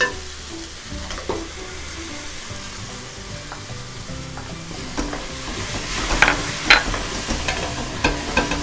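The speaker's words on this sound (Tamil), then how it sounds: "தக்காளியோட ஸ்மெல் போகிற வரைக்கும் நல்லா வதக்கிக்கோங்க" Finely ground tomato puree sizzles and fries in a pan for dhaba-style rajma masala, a steady close hiss broken by occasional spoon scrapes and stirring knocks, with no voices.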